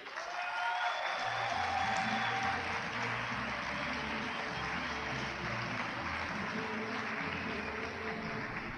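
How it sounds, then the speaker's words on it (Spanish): Loud, sustained applause from a seated conference crowd, dense continuous clapping that swells early and holds steady to the end without speech. "Dese un aplauso bien fuerte."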